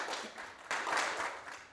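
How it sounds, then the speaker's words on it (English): A conference audience at a startup pitching event applauds the next founder, a dense, even patter of many hands clapping at moderate volume and slightly distant, continuing without a break for about two seconds. "Let's get him on the screen and give him a round of applause."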